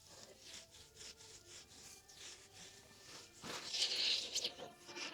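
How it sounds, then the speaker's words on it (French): Skincare product being rubbed and massaged into facial skin, a close, soft repeated rubbing and swishing in short strokes, growing a little louder and brighter toward the end, with no talking. "là, je frotte, je fais des petits massages et tout et tout"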